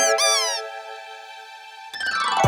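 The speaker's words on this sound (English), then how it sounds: "it's a squeaky toy sound effect" A squeaky toy sound effect: a loud rising-and-falling rubbery squeal, then a sustained steady squeak and a final sharp burst, played alone with no talk.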